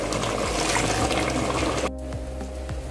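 Hot water pouring into a pot of simmering Malvani chicken curry, a steady close liquid rush for about two seconds, then a quieter bubbling with low rumble.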